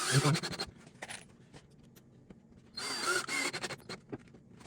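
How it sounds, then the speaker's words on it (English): A power drill driving screws into a wooden stepladder gives two short whirring bursts separated by a quiet pause, close and fairly loud. "These are going to be supporting my weight, so I'm throwing 4 screws."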